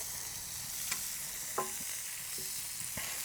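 Bone marrow fries on a Vulcanus grill, a low steady sizzle broken by a few sharp crackles and clicks of scraping, quiet, close and without voices.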